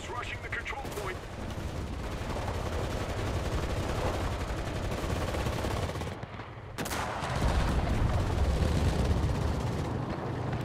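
Rapid gunfire and machine-gun bursts in a WWII video game battle in the Hurtgen forest, fairly close and continuous, with a brief lull before the shooting picks up again louder.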